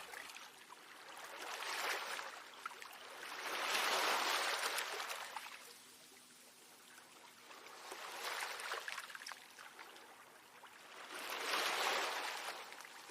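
Gentle ocean waves swell and fade in slow, regular surges about every four seconds, faint and soft, with no voices over them.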